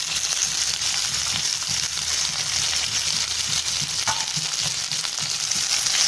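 Finely chopped medium-sized onion sautés in hot oil for a chutney made without tomato or coconut, giving a continuous close, crackling sizzle with a few faint stirring scrapes.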